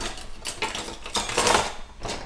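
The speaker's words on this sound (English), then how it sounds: "I'm actually going to switch to a whisk, because I think that that's easier." A wire whisk works flour into a butter roux for homemade mac and cheese, giving a busy, scraping metallic clatter against the pot with uneven bursts and no voices.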